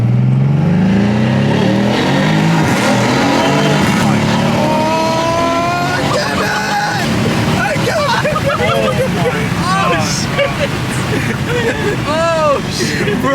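A car engine revs hard and rises through its range while accelerating, loud and close, with excited voices talking over it throughout.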